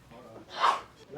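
A single short, sharp sneeze-like burst of breath, close and fairly loud, with brief breathy noise around it.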